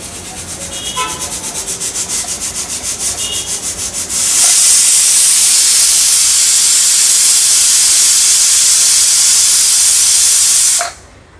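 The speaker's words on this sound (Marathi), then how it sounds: "आठ शिट्ट्या आपण काढून घेतल्यात कुकरच्या" A pressure cooker cooking mutton curry on a high flame puffs rhythmically for a few seconds, then bursts into a loud, sustained whistling hiss of steam that cuts off abruptly near the end.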